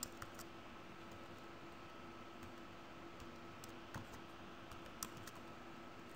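Someone types a password on a computer keyboard to log in, producing a sparse series of soft key clicks and taps over a low, steady background hiss in a quiet room.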